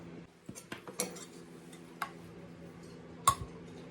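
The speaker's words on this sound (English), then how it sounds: "Take us a little bit of this up out of this dish here." A serving utensil clinks and scrapes against a baking dish while scooping out a green bean potato bake with potatoes, onion, bacon and peppers, giving scattered light taps and one sharper clink near the end.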